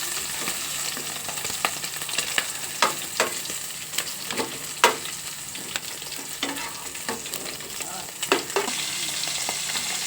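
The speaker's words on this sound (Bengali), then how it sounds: "এবার এক এক করে মাছগুলোকে এইভাবে সব ভেজে নেব।" Fish fry in oil one piece after another, a continuous close sizzle broken by repeated short scraping and tapping spatula knocks in an irregular rhythm, no voices.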